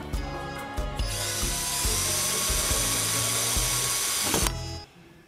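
A power drill driving a small screw whirs in short pulses, then runs continuously at high speed before stopping abruptly; close and fairly loud, no voices.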